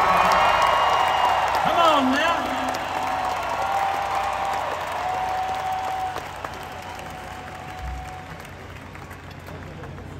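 A stadium concert crowd applauds and cheers in a broad, distant roar with scattered whoops, heard under a voice speaking briefly over it, then fading slightly in volume.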